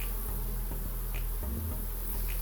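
Honey bees at a hive in July, one carrying pollen, hum in a steady, close drone with low buzzing pulses rising and fading throughout; no talking.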